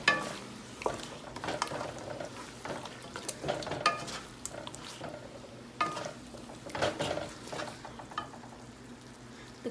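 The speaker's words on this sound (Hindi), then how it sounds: "अब हम इसमें लाल मिर्च पाउडर डालेंगे और इसको भूनेंगे।" Chicken with tomatoes and red chili powder being fried for chicken pulao, stirred continuously: a steady close sizzle with frequent scraping and clattering of a spoon against the pot over ten seconds.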